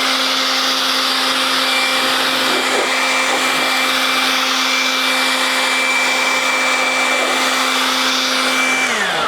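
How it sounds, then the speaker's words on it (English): Air blower drying freshly waxed car paint, a loud continuous steady whine and rush of air close by, running alone without talk before cutting off at the end. "Let's hit it with the blower to see if it comes off."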